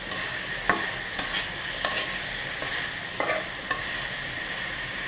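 Potatoes fry in a pan on a gas stove with a constant hissing sizzle, and a spoon stirs and scrapes the pan in several sharp, close strokes. There is no talk.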